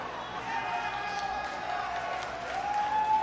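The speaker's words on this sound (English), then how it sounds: "And what about this crowd reaction" Arena crowd noise from the WWE 2K18 wrestling video game, a steady roar of cheering and clapping that swells toward the end, with a commentator's voice running over it.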